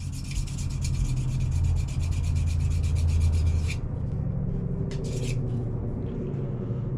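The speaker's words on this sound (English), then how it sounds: "take your diamond stone and hone your edge" A diamond stone is drawn along a handmade gunslinger knife's edge in quick repeated rasping strokes, close and fairly quiet. The strokes stop partway through, then a couple of brief scrapes follow over a low rumble.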